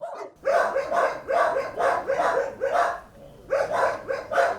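Several dogs bark repeatedly in a rapid series at an animal shelter in Odesa, loud and close, with short pauses between bursts.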